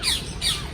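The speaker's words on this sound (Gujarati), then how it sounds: "એટલે પોપટ જ છે પણ એની અલગ અલગ પ્રજાતિ છે" A parrot at Sarthana Nature Park zoo in Surat gives two loud, harsh squawks in quick succession, close by, with no talking over them.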